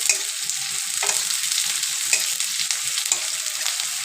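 Chopped onion and green chilli stir-frying in hot oil for a Bengali rai shak dish, a steady close sizzle broken by scraping spatula strokes about once a second, with no talk.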